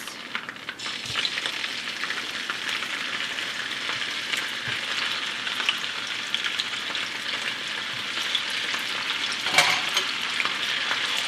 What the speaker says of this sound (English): I have heated some oil in my saute pan, and I will now add my sausages.